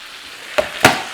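Bacon and scrambled eggs frying in a pan, a soft steady sizzle with two brief louder crackling bursts close by, no talking.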